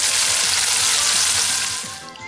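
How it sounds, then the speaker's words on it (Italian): Flour-coated squid pieces frying in very hot oil at 170 degrees, a loud, steady dense sizzle and crackle that continues close up throughout, easing slightly at the end, with no voices. "ora stiamo friggendo in olio molto caldo a 170"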